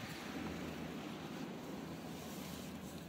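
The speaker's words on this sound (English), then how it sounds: "it is very windy on the beach today" Strong wind on a Maine beach during a hurricane, a steady broadband roar of gusts buffeting the microphone with surf in the background, loud and continuous with no talk.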